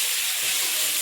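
Fried fish goes into a pan of cooking taro, giving a brief, steady sizzling hiss that fills the moment without any voices.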